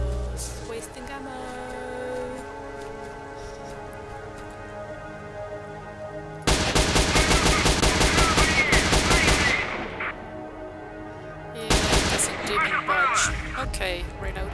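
Automatic gunfire in a Pripyat zone shooter video game, two loud rapid bursts, the first lasting about three seconds and the second shorter, over a quieter background of game sound.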